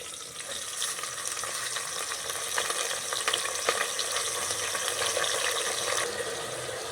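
Drumstick leaves dropped into hot oil for a Nellai-style kootanchoru, giving a dense, even crackling sizzle that holds steady throughout with faint occasional clicks, close and with no voices.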